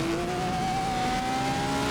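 A 1950s Formula 1 car engine in the rFactor 2 racing sim at the Solitude circuit drones at a steady high pitch with a slight rise, rumbling and juddering beneath as it rolls over road bumps.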